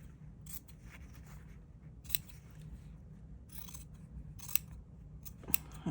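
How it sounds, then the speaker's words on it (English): Scissors make several quiet, crisp snips through paper while cutting out an English paper piecing quilt template, with short pauses between cuts in a hushed room. "then we're gonna cut this out. And I just do a little snip."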